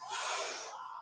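One sharp, airy breath drawn hard through the mouth between reps of a kettlebell leg-day workout, loud and close, lasting about a second with no talking over it.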